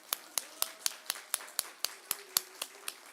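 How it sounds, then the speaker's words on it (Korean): A church congregation claps at a Wednesday service, about a dozen sharp, evenly spaced claps ringing out clearly over a quiet room. "박수 한번 주세요."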